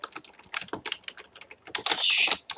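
Fast, uneven clicking of keys on a computer keyboard while Java socket code is typed, close and fairly faint, ending in a denser cluster of rapid taps.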